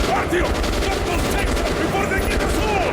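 Rapid gunfire in Metro Last Light Redux, a dense burst of close, loud shots rattling continuously for about three seconds, with a player talking over the shooting.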